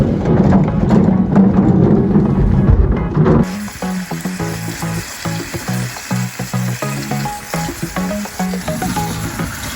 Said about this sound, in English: Now we are cooking the rib.